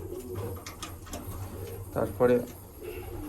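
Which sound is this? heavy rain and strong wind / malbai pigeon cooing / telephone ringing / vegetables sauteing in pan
malbai pigeon cooing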